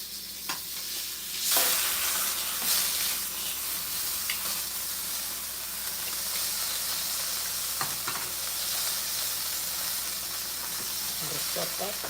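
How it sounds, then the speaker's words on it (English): Salmon frying crisp in a pan for a rice bowl, giving a loud, continuous hissing sizzle with occasional spatters and utensil clicks as the fish is flipped. "we're gonna flip this over, and you can see that the salmon has a really good crisp to it"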